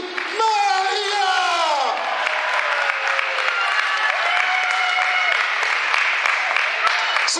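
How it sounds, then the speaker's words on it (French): Crowd applause at a live wrestling show in Beauvais greets the wrestler Alexis Maria. A loud, steady clapping wash fills the hall, led in by a brief sliding tonal sound at the start. "Messieurs, dames, un tonnerre d'applaudissements pour cette catcheuse, Alexis Maria."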